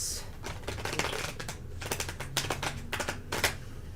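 Tarot cards are shuffled in quick bursts of crisp riffling clicks and slaps that come in uneven clusters over several seconds, close and moderately loud.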